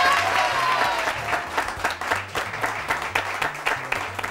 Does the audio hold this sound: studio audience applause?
yes